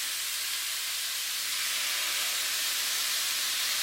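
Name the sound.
cooking wine poured into the hot pan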